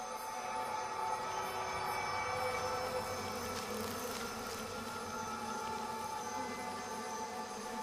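A honey bee colony hums in a dense, steady drone, close and continuous with a faint higher whine over it as a death's head hawk moth comes in to land among the bees.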